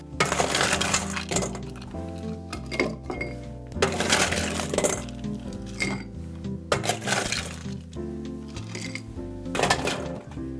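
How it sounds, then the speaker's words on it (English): Ice is dropped into a glass while mixing a Chrysanthemum cocktail, sharp clinks and rattles of cubes against glass landing in bursts over steady background music. "Add some ice."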